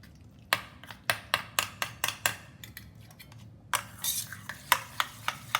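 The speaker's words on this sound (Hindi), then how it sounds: "अच्छी तरह से चम्मच की सहायता से इसे मिला लें।" A spoon scrapes and taps rhythmically against a bowl while powdered sugar is mixed into curd for shrikhand, a quick run of sharp clinks, a short pause, then more strokes.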